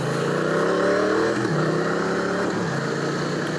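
A stock Triumph Street Cup motorcycle accelerating up a highway on-ramp, its engine climbing in pitch through the gears with a brief dip at each shift, loud and steady with wind noise around it and no talk.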